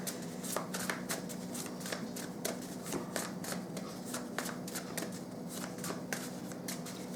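Handwritten tarot cards are shuffled by hand in a steady run of close, crisp riffling flicks and soft slaps for several seconds, with no voices.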